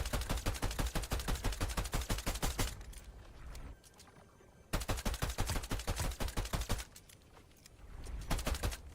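Pistol gunfire in Fortnite: two long bursts of rapid, evenly spaced sharp shots, each run several seconds, separated by a quiet gap, with a shorter burst at the end.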